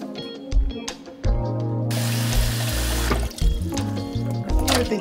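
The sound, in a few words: water running while cleaning pork ham hocks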